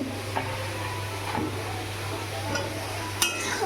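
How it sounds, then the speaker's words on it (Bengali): Potatoes frying and being stirred into an oily spice paste in a pan, a steady low sizzle with faint scraping and a few soft clinks from the utensil, close and continuous, with no talking. "আলুগুলো দিয়ে একটু ভালো করে কষায় নিই"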